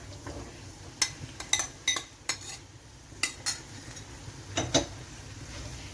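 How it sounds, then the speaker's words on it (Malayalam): Fried prawns in butter garlic masala are stirred in a pan, giving a faint, irregular series of sharp metallic clinks and scrapes from the utensil, about a dozen in all. "നമുക്കിത് നന്നായിട്ടൊന്ന് മിക്സ് ചെയ്യാം."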